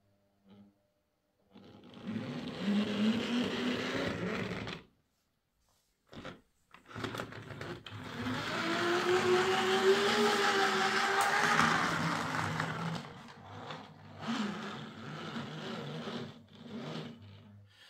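A Triang Blue Pullman model train running poorly, with an uneven whirring motor drone that starts, cuts out, stutters back and grinds on with a wavering pitch. It sits close and alone, with no talk.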